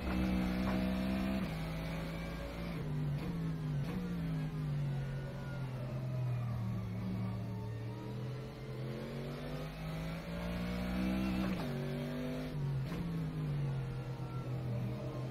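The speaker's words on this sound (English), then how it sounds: "I really do like the sounds of this Mercedes here on rFactor 2" A Mercedes-AMG GT3 race car engine in the racing game rFactor 2 revs up and down repeatedly through gear shifts, a steady loud roar with rising and falling pitch, no talking.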